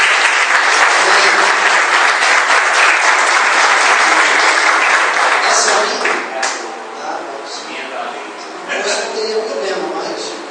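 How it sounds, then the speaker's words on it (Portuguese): A church congregation at a convention in Itapororoca, Paraíba, applauds loudly and continuously, the clapping thinning somewhat toward the end, with voices mixed in. "Vamos dar um aplauso ao Senhor."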